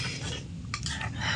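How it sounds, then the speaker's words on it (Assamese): A wok is set down on a stove, giving a brief, close metallic clank amid light kitchen clatter. "এতিয়া কেৰাহী দি দিম ইয়াত"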